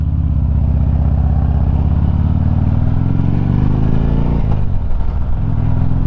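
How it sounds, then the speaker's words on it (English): A 2009 Harley-Davidson Street Glide with Sharkroad exhaust rides along steadily, its loud, close, low engine rumble rising and falling as the throttle changes, with some wind noise mixed in. "Gonna take a little ride on the Harley Street Glide."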